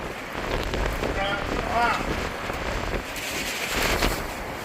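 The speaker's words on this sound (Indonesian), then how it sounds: "Sayang hujan." Steady rain falling on Hangzhou Bay Bridge with a constant hiss and patter, wind noise buffeting the microphone, and faint voices in the background.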